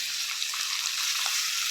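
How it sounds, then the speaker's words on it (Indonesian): Fried tofu and wilted napa cabbage stir-fried together in a pan, giving a steady close hiss and sizzle with faint scraping, no voices. "Kita aduk rata."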